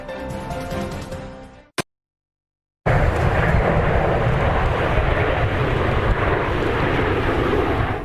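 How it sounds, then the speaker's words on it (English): Canadian Snowbirds aircraft flying over Edmonton, a loud, broad roar of jet engines passing overhead, steady after an abrupt break, with wind buffeting the microphone. "The Canadian Snowbirds will make their final flight over Edmonton tomorrow before the planes are retired and replaced."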